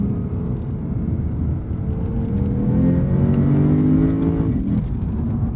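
A 2015 Lexus RC F brakes and downshifts from third to second, the engine note humming steadily then swelling into a blip with a rising whine before settling, heard from inside the car.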